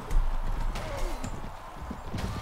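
Horse hooves clip-clopping in a trot during a tournament in the medieval game Mount & Blade Prophesy of Pendor, a close, loud rhythmic patter over a busy noisy background.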